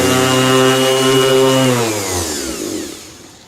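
A headlight lens being sanded with 800 grit sandpaper using a powered tool: a loud, steady motor whine that gradually winds down in pitch and fades over the last second, with no talking.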